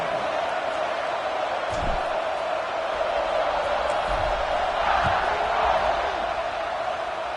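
A stadium crowd roars at kickoff in the College Football 26 video game, a dense, sustained wall of cheering that holds steady the whole way through and swells slightly near the end.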